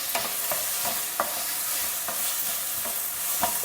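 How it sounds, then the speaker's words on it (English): Carrots, French beans and frozen peas are sautéed in a pan, with a soft steady sizzle and several quick scraping stirs of a spatula spaced through the short stretch. "Saute everything well together till the vegetables are nearly done."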